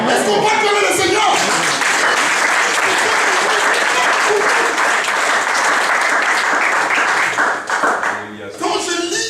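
A church congregation bursts into loud, sustained applause and cheering at a sermon, dense clapping filling the room for several seconds before tapering off near the end.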